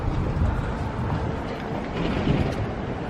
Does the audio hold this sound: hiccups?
no